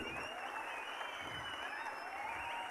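A large crowd at an all-India kabaddi tournament match between Indian Navy and Tamil Thalaivas applauds continuously, a dense and steady wash of clapping heard from a distance, with no clear individual voices.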